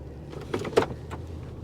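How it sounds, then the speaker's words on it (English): Short, soft mechanical whir and faint clunks from a Cadillac Escalade engaging four-wheel drive high, heard up close in the cabin at low level, with no talk. "And she shifted into 4 high."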